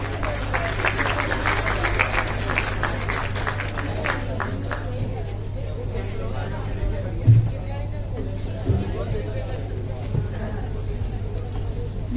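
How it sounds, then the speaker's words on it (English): An audience at a design festival gives a round of applause to welcome speakers and a moderator, a crowd clapping that fades after a few seconds over a steady low hum, leaving talk and room noise. "I would like for all of you to welcome all our speakers and the lovely moderator with a huge round of applause"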